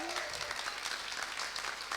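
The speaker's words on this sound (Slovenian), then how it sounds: "En aplavz za žirijo." Audience at a Slovenian laughing competition applauds the jury with brief, dense clapping, moderately loud and steady throughout, with voices faintly mixed in.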